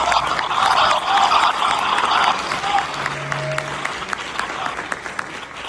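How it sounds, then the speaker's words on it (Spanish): An audience at a genealogy lecture gives loud, sustained applause, with dense clapping that stays strong for several seconds before thinning slightly toward the end. "les pido que den un fuerte aplauso"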